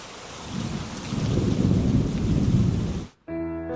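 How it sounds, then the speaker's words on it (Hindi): Heavy rain pours down steadily over a rural roadside dhaba with rumbling thunder beneath it, close and loud for about three seconds before cutting off abruptly into a different quiet background. "बारिश तेज हो गई।"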